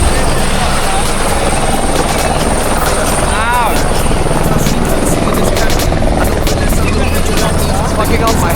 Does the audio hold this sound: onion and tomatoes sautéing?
no